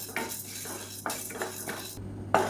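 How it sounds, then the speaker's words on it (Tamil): Chana dal and toor dal dry-roasting in a pan, with a spoon scraping and clinking against metal in irregular strokes, close and fairly quiet. "இதையும் நல்லா செவக்க வறுத்துக்கலாம்"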